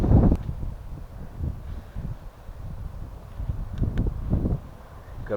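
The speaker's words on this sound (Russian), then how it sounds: "Посмотри, ветер как назло подул опять." Wind gusts by the Tura River during autumn fishing, buffeting the microphone in low, uneven rumbling waves, fairly faint and without voices.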